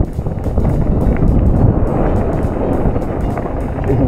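Loud, steady wind on a descent of Mt Canobolas roars and buffets against the microphone throughout, a continuous rushing noise with no voices.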